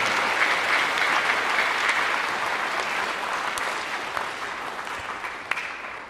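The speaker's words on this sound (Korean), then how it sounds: "다 같이 박수로서 한번 인사를 좀 나눴으면" A concert hall audience at a youth orchestra performance claps together in steady, sustained applause, fairly loud and even throughout before tapering slightly at the end.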